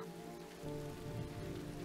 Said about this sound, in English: Let's wait out the rain in the booth.